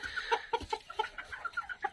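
Japanese bantam chickens cluck in quick, rhythmic bursts, a nearby string of short clucks at moderate volume with no voices.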